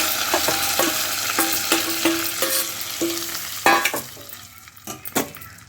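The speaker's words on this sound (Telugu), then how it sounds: "ఇప్పుడు పోపును తీసుకొని పప్పులో వేసేసుకోండి" Hot oil sizzles and crackles loudly as tempering hits Malabar spinach dal, with sharp spoon taps against the pot as it's stirred.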